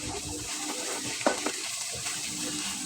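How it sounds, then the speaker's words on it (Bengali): Okra frying in a pan with turmeric, salt and green chillies, a low continuous sizzle with a few short stirring knocks, close by and with no voices. "আর এদিকে আমি অল্প একটু ঢেঁড়সও ভেজে নিচ্ছি।"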